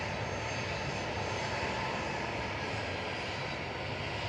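A Ryanair Boeing 737-800 sits on the runway at Manchester Airport, its jet engines giving a loud, continuous roar that stays steady and close for the whole stretch.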